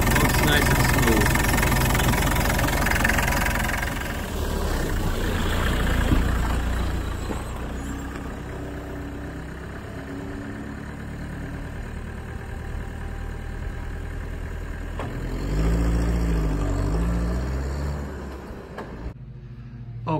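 A 1990 Land Rover 90 engine idles steadily at close range, a low smooth rumble with a brief rise in pitch near the end, as if the throttle is blipped.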